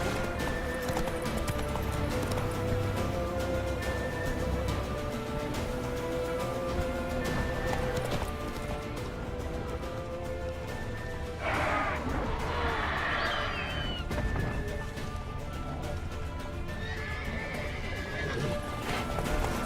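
Roach, a horse in The Witcher 3, gallops with a steady, continuous clip-clop of hooves and gives loud whinnies over a dense game soundscape. A brief crash cuts through partway along.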